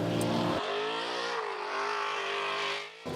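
A Subaru BRZ engine howls steadily at high revs while driving, loud and close, the pitch dipping slightly and rising again before fading at the end.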